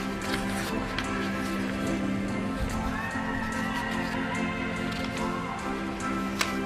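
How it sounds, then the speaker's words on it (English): Horse whinnies and neighs over steady hoof clip-clops at a horse show class, with a busy crowd-like background throughout and a sharp knock near the end. "he's a bold going horse"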